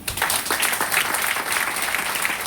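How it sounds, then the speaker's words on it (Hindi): Audience at a motivational seminar on wealth and poverty clapping, a dense, loud burst of many hands that holds steady throughout. "एक अपने ताली बजा लीजिए"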